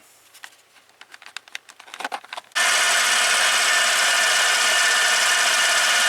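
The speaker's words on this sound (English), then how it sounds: "Now I'm using cut-off high-speed steel to actually groove this" A cut-off high-speed steel tool grooves a part on a lathe for an insect screen trap. Light scraping ticks lead into a sudden, loud, steady hissing cut that runs on without a break.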